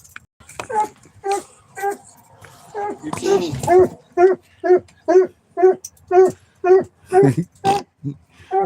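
A small muzzled dog gives a rapid run of high whimpering yips, a dozen or so evenly spaced cries close by, while a person talks over the start.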